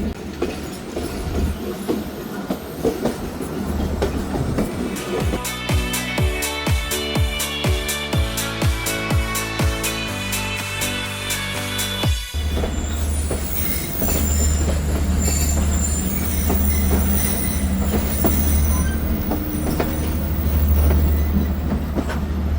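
The Khyber Mail passenger train runs on the rails between Hyderabad and Kotri in Pakistan, a loud close rumble with rhythmic clickety-clack over rail joints, sharp wheel squeals, and a heavier steady roar later on.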